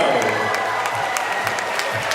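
A studio audience at a televised singing contest claps steadily to welcome a contestant, a dense, fairly loud patter of applause with faint crowd voices beneath.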